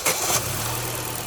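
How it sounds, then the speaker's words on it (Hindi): A car engine turns over and catches, then settles into a steady, quiet hum that runs close and even for the rest of the moment with no voices. "चलो भाई इंजन की आवाज सुनो,"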